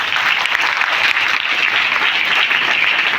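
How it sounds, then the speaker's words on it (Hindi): A school audience at a Republic Day celebration bursts into loud, dense applause for the teachers, a continuous wash of clapping heard close and alone. "ये शिक्षकों के लिए पहले से जोरदार तालियां"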